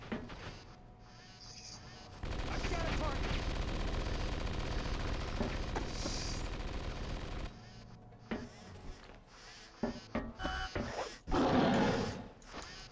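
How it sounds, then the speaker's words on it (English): Gunfire in the Predator Concrete Jungle video game: a long, dense stretch of rapid automatic bursts, then scattered sharper shots and growling bursts trailing off, loud and close. "That's a lot of goddamn bullets."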